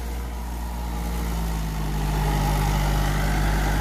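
A Mahindra 275 DI tractor runs a Shaktimaan 7-foot rotavator, its diesel engine giving a steady, loud, low drone that swells slightly partway through.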